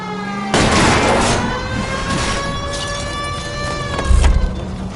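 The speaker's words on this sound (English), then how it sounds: "I'll try to shoot out his tires." Gunfire at a fleeing car's tyres during a car chase in the 1940s crime game L.A. Noire: a sharp burst of shots, then more scattered reports over a continuous engine drone, with a heavy thump near the end.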